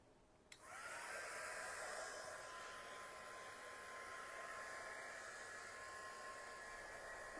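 A hair dryer switches on with a click and runs in a steady, loud, close whooshing blow, drying a thin coat of paint on wood.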